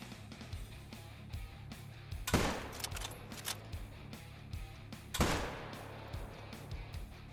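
Two sharp, loud rifle shots ring out about three seconds apart while hunting in theHunter: Call of the Wild, each followed by a decaying echo, with quieter clicks and handling noises in between.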